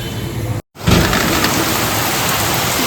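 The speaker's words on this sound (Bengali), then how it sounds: "বিভৎস বৃষ্টি হচ্ছে" A dense, steady roar of heavy rain pouring down nearby, broken by a brief dropout before resuming at full strength.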